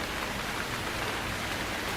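Steady rain falls in the survival video game Stranded Deep at night, a dense even hiss of drops with no other sounds.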